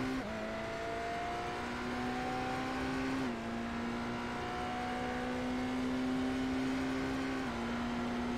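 Supercars racing in a six-hour ANZAC endurance race video game: a steady, loud engine drone holds at a sustained pitch, with brief gear-shift drops, and no talk over it.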